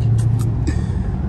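A Dodge SXT with its muffler deleted rumbles past nearby, a loud, deep, raw exhaust drone filling the brief moment.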